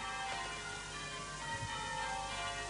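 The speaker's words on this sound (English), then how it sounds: "blessed bells" Church bells ring faintly in the distance, a soft sustained metallic hum with gentle repeated strikes over a quiet, steady background.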